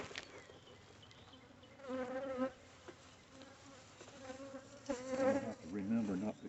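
Honey bees buzz around open hives while the hives are split in early March, a close, continuous droning hum that swells louder in several bursts.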